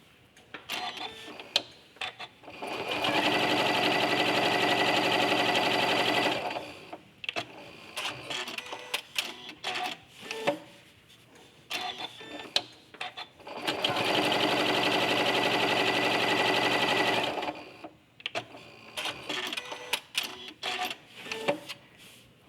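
A sewing machine with a walking foot stitches straight quilting lines in two long steady runs, with quiet handling noise between and after them.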